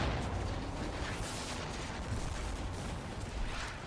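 Fireworks in the video game Far Cry 5 roll out as a dense, continuous barrage of booms and crackling bursts, loud and steady from start to finish with no talking over it.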